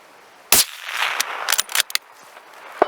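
A Rondane rifle fitted with a Svemko suppressor fires one sharp shot at a long-range target. The report cracks loudly and decays into a hissing tail, followed by several quieter clicks and knocks.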